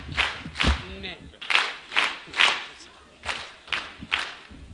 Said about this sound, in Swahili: Naomba tupige makofi.